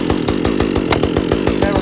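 A Husqvarna 562XP chainsaw roars loudly and steadily close by, with rapid rhythmic pulsing through its running note, as if just started on choke.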